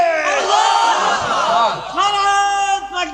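A large crowd at a Bangladeshi religious sermon gathering shouts the takbir, Allahu Akbar, in loud unison, with two drawn-out swells of many voices close to the microphone.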